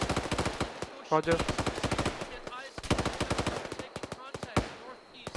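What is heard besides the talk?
gunfire in a video game battle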